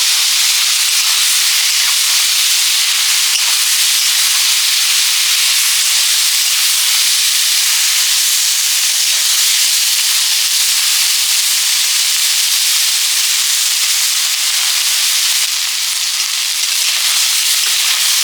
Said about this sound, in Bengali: এবারে দেবো একটু রসুন বাটা আর কাঁচা পেঁয়াজ আর কাঁচা লঙ্কা বাটা দিয়ে নেড়ে নেব